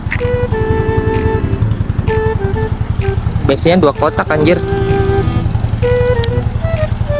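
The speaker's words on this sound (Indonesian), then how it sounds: "Jadi ini kan knalpot SC Project ya guys ya tuh." A Honda Sonic 150R motorcycle fitted with an SC Project exhaust idles close by, thumping in a fast, even pulse. Someone talks over it throughout.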